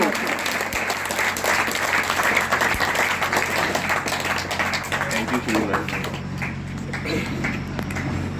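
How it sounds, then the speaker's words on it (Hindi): Thunderous applause from a crowd at an Independence Day program, a dense, sustained wash of clapping throughout, close and loud, with a voice talking over it. "तालियों की गड़गड़ाहट के साथ"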